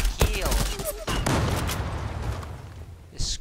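Bursts of gunfire in a competitive video game match, sharp cracks and rattling shots close up early on, then thinning to softer scattered fire as a commentator talks over it.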